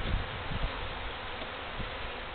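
Feral honeybees swarming around a cut-out hive comb being set into a new hive, a constant dense buzzing drone, close and steady, with faint rustling.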